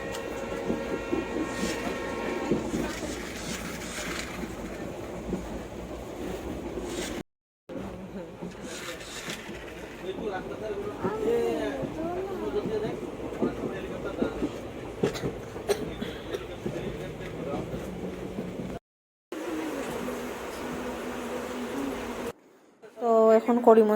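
A passenger train rolls along the tracks through the Arunachal region, giving a steady rumbling ride noise with faint rhythmic clatter, broken by short gaps, while people talk over it.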